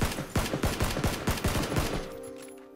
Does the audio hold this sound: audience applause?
no